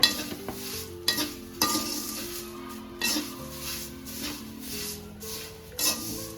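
Dried drumstick leaves and salt dry-roasting in a pan, with repeated scraping stirs of a spatula against the metal at an irregular rhythm over a faint steady sizzle, close and fairly quiet.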